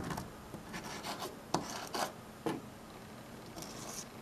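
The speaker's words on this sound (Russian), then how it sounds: "Очень древняя наждачка у меня, 2012 года где-то так." Old, worn sandpaper rasping across a drawing surface in short, quiet strokes, with several sharper scrapes standing out among softer rubbing, close and alone.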